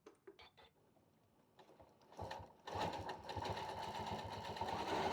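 A Janome M8 sewing machine stitches fabric with a stitch regulator, starting with a few soft clicks before the needle motor rises into a steady, fast whirring rattle, close and alone.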